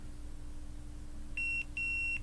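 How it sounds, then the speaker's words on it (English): Two short, clear electronic beeps sound one after the other from a digital multimeter in continuity mode as probes touch points on an iPhone 7 logic board. The beeps ring over a faint, steady bench hum. "So we're gonna go ahead and switch to this. This one beeps."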